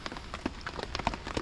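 Rain patters at a campsite, a steady spread of soft drops and brief splashes close by, with no voices.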